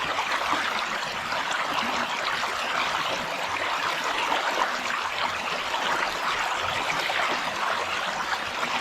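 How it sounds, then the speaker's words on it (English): Water running off the outside of a filter bag, a steady, continuous rushing trickle heard close up and fairly loud, unbroken for several seconds with no voices. "Let all the water off the outside of the bag run off"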